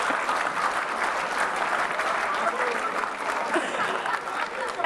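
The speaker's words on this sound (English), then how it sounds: "you guys are clapping on 2 and 4" Church congregation clapping along on beats 2 and 4, a steady dense wash of applause filling the room throughout with faint crowd murmur beneath.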